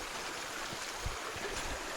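A creek flows steadily beside a wooded hiking trail, giving a soft, continuous rushing and trickling wash at moderate distance with no voices.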